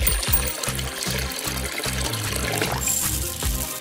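Water poured into a plastic bag as part of a DIY fidget craft, a sloshing, gurgling pour with rhythmic low splashes repeating steadily over several seconds, close and fairly loud, with music running underneath.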